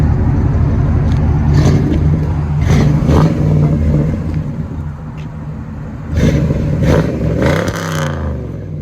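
The LT1 5.7L V8 of a 1996 Buick Roadmaster wagon, fitted with Flowmaster 40 exhausts, revs up several times in loud, close bursts. Each burst falls back to a throaty rumble, with a final pair of sharp blips near the end.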